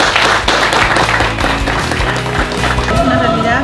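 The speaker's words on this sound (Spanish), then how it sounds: "Un voto de aplauso, por favor." Audience members clap together at a project event in Tocache, a short burst of close handclaps mixed with a murmur of voices, with a tonal background underneath.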